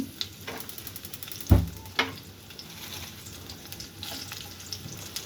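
Onions hit hot oil in a pan, giving a steady crackling sizzle with one sharp clatter early on and lighter scraping stirs, close and without voices.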